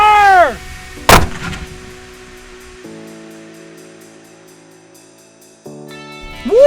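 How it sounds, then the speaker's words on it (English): A historic cannon at Jamestown goes off with one huge booming blast that rolls away into a long fading rumble, loud and close. Whooping and excited voices follow later, along with some tonal background sound. "Are you ready to have some fun with the cannon?"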